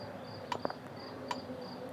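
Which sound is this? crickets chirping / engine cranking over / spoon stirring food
crickets chirping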